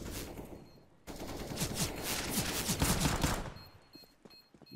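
Rapid bursts of automatic gunfire spray in Counter-Strike: Global Offensive during a competitive match, a dense rattling fusillade that swells for a few seconds after a brief pause, then trails off.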